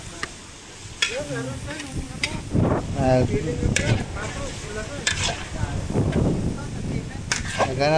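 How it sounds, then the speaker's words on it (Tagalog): Garlic, onion and chopped pork innards sauté for dinuguan, sizzling in a pan with scraping stirs and clanks, while people talk over the cooking throughout. "naggisa lang ng bawang sibuyas, tapos yung mga tinadtad nila man loob yan sinalang na, ginigisa lang din, ginigisa"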